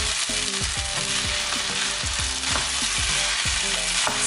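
Rice and vegetables frying in an Asian wok, a steady loud sizzle broken by repeated scraping stir strokes of a utensil against the pan, close up with no talking.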